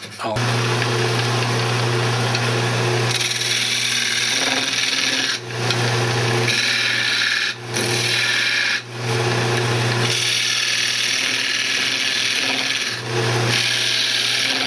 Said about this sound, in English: we're just going to go ahead and sand it up inside and out